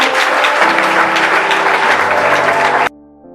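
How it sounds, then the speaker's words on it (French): Wedding guests applaud loudly and steadily for about three seconds, a dense wash of clapping that cuts off abruptly, leaving a soft tonal background. "Acclamons pour le"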